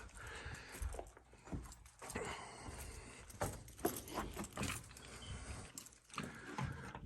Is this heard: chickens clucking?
no